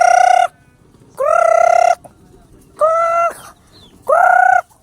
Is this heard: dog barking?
no